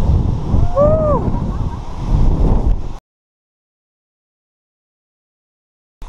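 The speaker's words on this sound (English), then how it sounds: "It is windy today." Strong wind on a mountain range on the Great Range near Gothics, rough gusty buffeting and microphone rumble with a brief whoop, then the sound cuts to silence.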